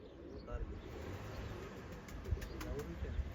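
Pigeons coo softly in a loft, their low murmuring calls faint and somewhat distant beneath a quiet background and scattered rustling.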